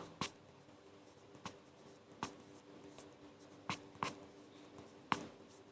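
Pen strokes scratching on paper during a worked maths problem, heard as a handful of faint, brief scrapes spaced irregularly against a quiet room hum, with no talk.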